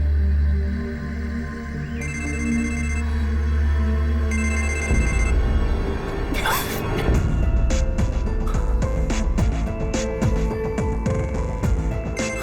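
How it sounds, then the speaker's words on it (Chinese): A mobile phone rings in a series of electronic tone bursts during a tense domestic drama, followed by a sudden rattling clatter and busy background sound. "接电话"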